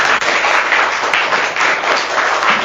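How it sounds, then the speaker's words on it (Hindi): A crowd at the close of a live discussion show applauds steadily, dense clapping filling the room for a few seconds with no voices over it. "भाई तालियां एक बार फिर"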